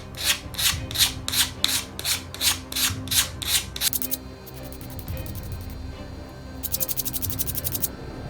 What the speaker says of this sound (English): Now I'm just going to take my sanding block and round the leading edge and the tip.